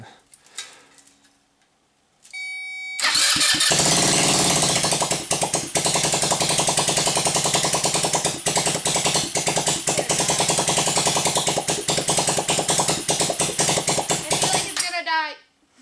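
A rebuilt Crossfire 150 go-kart engine on 93 octane fuel cranks over and runs roughly at a fast, rattling idle for about twelve seconds after a brief quiet start, then cuts out.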